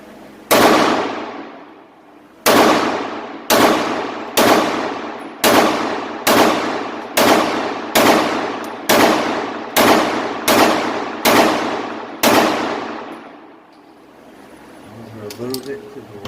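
A Taurus TH9C handgun fires about a dozen loud, sharp shots, the first two spaced apart and the rest in a steady quick rhythm, each with a short ringing decay, followed by quiet and faint handling.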